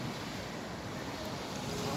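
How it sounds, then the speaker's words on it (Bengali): Sea waves wash onto a beach in Italy with a continuous, full roar of surf, mixed with gusting wind buffeting the microphone. "তো পানির ঢেউটা অনেক সুন্দর"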